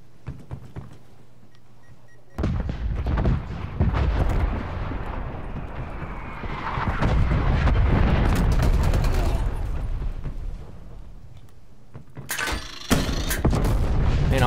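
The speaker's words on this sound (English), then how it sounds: "Man, all these freaking bombs they sit around." Repeated explosions and booming blasts from a Call of Duty Cold War hardcore team deathmatch on PS5, loud bursts rolling over a dense battlefield din, with someone talking over the action.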